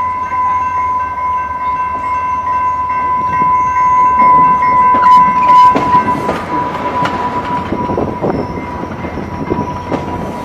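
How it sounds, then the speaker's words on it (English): A Rail Runner commuter train on the line to Santa Fe rolls along the rails, a steady loud rumble with rhythmic clatter and a sustained tone, heard from aboard with no talk. "I rode this train at 6:35 from Berlin, all the way out here."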